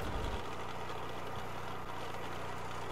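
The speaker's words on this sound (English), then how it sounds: "The baler is still running without any power source" A baler machine in the video game Pro Farmer 14 runs with a steady, droning mechanical hum, continuous and even throughout, with no voices.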